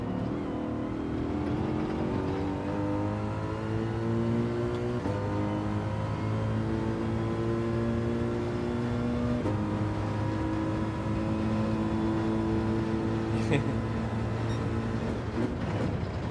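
A high-revving race car engine in Gran Turismo 7 drones steadily with rising and falling pitch as gears shift, loud and continuous, with no talking.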